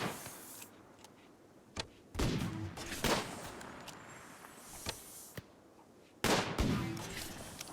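Scattered gunshots in the colony game RimWorld: a few sharp, separate reports at irregular intervals, with louder bursts between quieter ones against a low, faint background.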